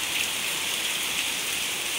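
A heavy summer storm pours rain over Caxambu, a dense, steady hiss of drops hitting surfaces, loud and unbroken throughout with no voices.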